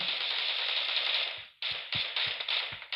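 Rapid automatic gunfire in the battle royale game PUBG, a dense sustained burst that briefly stops and then resumes in several shorter rattling volleys, loud and close with no talking.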